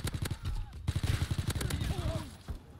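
Gunfire in Call of Duty WW2, a fast run of close, loud, punchy shots in an uneven rhythm, with a voice talking between and over the blasts.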